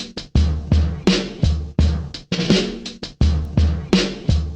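A chopped drum break sample plays alone as a punchy, loud loop, its sliced hits falling in a steady, slightly stuttering rhythm with sharp kick and snare attacks.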